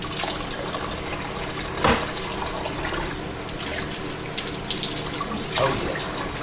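Tap water runs steadily into a sink while raw pork chops are rinsed ahead of marinating with seasoning, a continuous broadband splashing hiss with two brief louder bursts.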